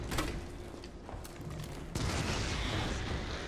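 Mine launcher fired in Resident Evil 3, a dense, noisy burst of game weapon blasts and mechanical clatter, loud and continuous, with a fresh hit partway through.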